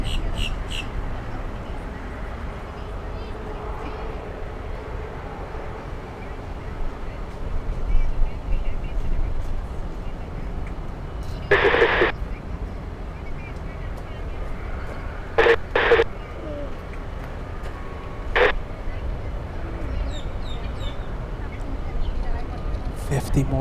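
A Boeing 787 airliner at Miami International Airport gives off a steady, distant broadband jet roar that runs under frequent speech and radio chatter, with a few brief louder tones.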